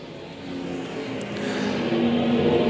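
Dirt-track racing with USRA stock cars in a feature main, several engines droning and building in loudness as the field rounds the oval at a steady distance, with no talk over it.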